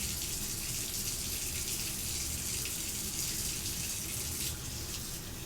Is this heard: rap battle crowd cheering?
no